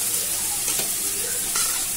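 Onions fry in a pan for a fish curry (fish kulambu), giving a steady, close sizzling hiss that holds evenly throughout with no one talking.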